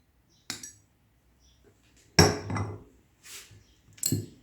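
Spoon stirring and knocking inside a glass of frankincense, gum arabic, water and a little olive oil, giving a few separate bright clinks spaced out over several seconds, close and fairly quiet.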